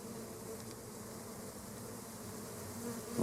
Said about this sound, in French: Ça y est, l'essaim est ouvert.